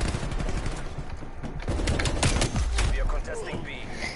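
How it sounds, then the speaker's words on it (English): Rapid, dense gunfire crackles through a video game match, with overlapping shots continuing throughout at fairly close range amid busy game noise, and a voice speaks briefly over it. "Brian, stop shooting me."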